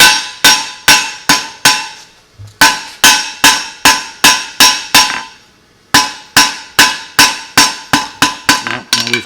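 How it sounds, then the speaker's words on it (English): Sharp metallic hammer strikes on hot metal ring out in quick, steady bursts of several blows, with two short pauses between runs; loud and close. "You can see the metal moving under the hammer."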